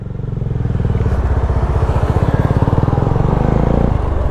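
Motorcycle on hard tires riding along Kenon Road toward Baguio, its engine close and loud with a rapid, steady pulsing throb and some clatter, with no talking over it.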